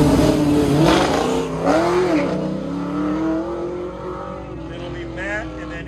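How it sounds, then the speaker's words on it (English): A 1967 Chevrolet Camaro races an autocross course, its engine revving and surging up and down in pitch nearby while an announcer talks over it through a loudspeaker. "On the line, Daniel Wilcox, 67 Camaro, first year"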